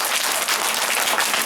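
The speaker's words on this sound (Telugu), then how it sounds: "ఒక్కసారి వాళ్ళకిద్దరికి, భార్యాభర్తలు ఇద్దరికి వెంకటకు గట్టిగా చప్పట్లు కొట్టాలని కోరుకుంటాం" An audience applauds Venkat at an autism school motivation programme, a steady, dense wash of clapping from many hands sustained throughout without talk.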